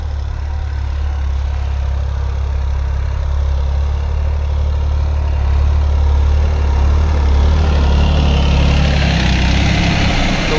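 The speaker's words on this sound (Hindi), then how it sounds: "खेत में चलता हुआ काफी अच्छा लग रहा है, ट्रैक्टर बहुत ही बढ़िया" Massey Ferguson 9500 tractor pulling a cultivator in a field at night, a loud, steady low diesel rumble with vibration, swelling slightly louder toward the end, no talk.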